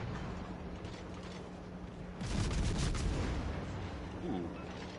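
Naval battle gunfire and torpedo explosions from the game World of Warships: Legends rumble over a steady background roar, swelling into a louder burst of booms midway before settling back.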